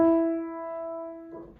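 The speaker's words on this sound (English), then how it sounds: "you have moved an interval of a third." A piano plays a third, two white keys apart, in a quiet room. The clear, sustained tone lasts about a second and a half and fades gently, with no talking.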